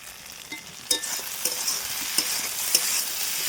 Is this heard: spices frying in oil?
yes